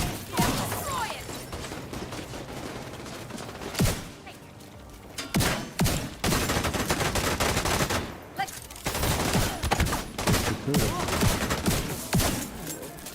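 Rapid bursts of video game gunfire crackle through a shooter mission, dense volleys broken by brief pauses, loud and close, with occasional thuds.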